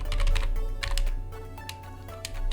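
A computer keyboard clicks as a folder name is typed, bursts of quick keystrokes over a steady low hum, fairly close with no speech.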